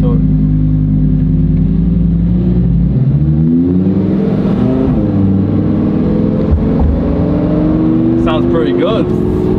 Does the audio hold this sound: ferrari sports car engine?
yes